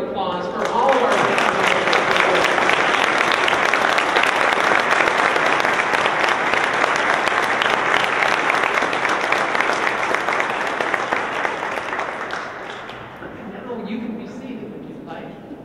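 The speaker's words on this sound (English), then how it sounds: "let's give a great big round of applause for all of our" Loud, sustained applause from a large audience at a Minnesota girls and women in sports awards event, swelling quickly and holding steady for several seconds before tapering off, with no voices over it.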